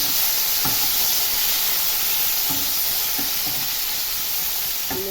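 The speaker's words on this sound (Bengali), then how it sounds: "সেই তেলের মধ্যেই আমি ভেজে নেব এবার ডিমগুলোকে" Eggs frying in a little oil in a hot wok (kadai), giving a steady close hiss and sizzle throughout with a few soft clicks of a spatula, no talking.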